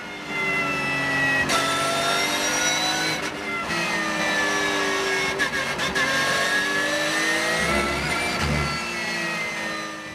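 Porsche race cars roar past at the Nogaro circuit during a close battle for third place, with loud sustained engine notes rising and shifting pitch as several cars pass one after another.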